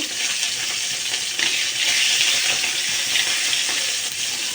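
Fresh parshe fish frying in a pan of hot oil, a steady, dense sizzle that stays loud and close throughout, with faint crackles and no voices.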